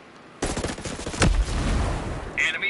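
Bursts of rapid automatic gunfire in the video game Ghost Recon Breakpoint, fairly loud and sustained over a couple of seconds during a multiplayer fight, with a person speaking faintly underneath.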